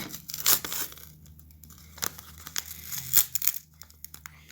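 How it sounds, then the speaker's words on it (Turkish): A surprise gift package torn open by hand, with short bursts of ripping and crinkling wrapping between quieter pauses, close and without talk. "İlk başta gördüğünüz gibi şuradaki paket işaretinden paketimizi açıyorum"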